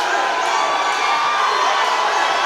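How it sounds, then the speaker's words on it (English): A wrestling crowd at the Tank roars and cheers wildly in a steady, dense wall of shouting and whooping, with no talk breaking through. "And this crowd has become unglued here at the tank."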